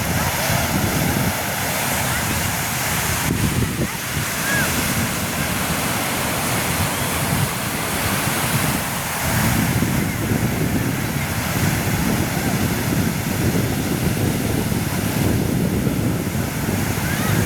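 Waves roll in at Candolim Beach in North Goa, a loud continuous roar of surf with heavy wind buffeting the microphone throughout, a voice faintly present beneath.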